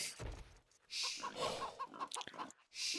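Chickens clucking in the Age of Empires strategy game on an Armenian-versus-Poles King of the Desert style match, several short clucks and squawks close and fairly loud, with game sound effects around them and no talk.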